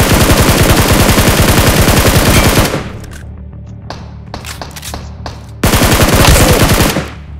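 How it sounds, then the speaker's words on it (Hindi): Rapid automatic gunfire in BGMI (Battlegrounds Mobile India) rattles loudly in a sustained burst, breaks into scattered single shots, then erupts into another fast burst. "तभी मुझे गोलियां चलने की आवाज आती हैं"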